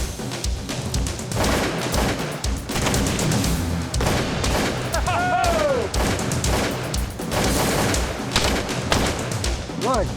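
Gunfire during a buffalo hunt comes as a sharp report amid outdoor noise, with people talking around it and a bird calling briefly.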